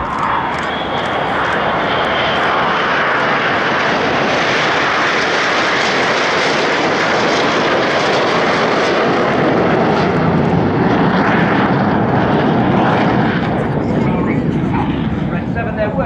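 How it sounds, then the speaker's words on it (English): Red Arrows jets fly past in close formation at an air display in Bournemouth, their engines a loud, sustained roar that swells and fades slowly, with a commentator talking over it. "He's flying his jet only 8 feet away from Red 6's jet, but he's doing that while he's upside down."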